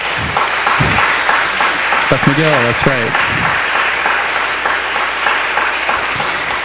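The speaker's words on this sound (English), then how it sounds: "A big round of applause for Beth Magill, Pia." Audience applause at a Christmas benefit concert, a steady dense clapping wash that runs the whole length while someone speaks over it.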